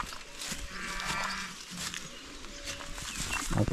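Water buffalo, carabao, lowing on a farm: a low, drawn-out moo or two that rise out of a noisy outdoor background of rustling and faint calls, with a closer knock right at the end.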